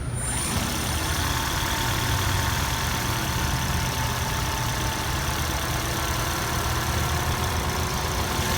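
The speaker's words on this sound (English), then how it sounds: "Now let us start her up." Toyota Aqua hybrid car with a 1.5-litre engine starting and settling into a steady idle, a continuous low engine hum heard close and fairly loud throughout, with no talking.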